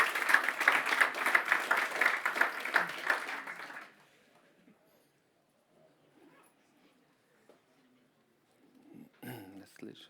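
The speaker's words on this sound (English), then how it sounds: "So let's give a round of applause to Juri and start talking about future" Audience applause at a tech conference talk on Angular monorepo management with Nx: dense clapping fills the first four seconds, then cuts off into near-silence before faint rustling and movement close the clip.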